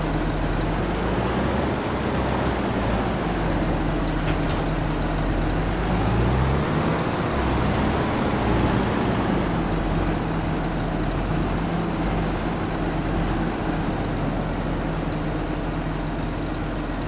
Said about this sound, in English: This is one noisy tractor.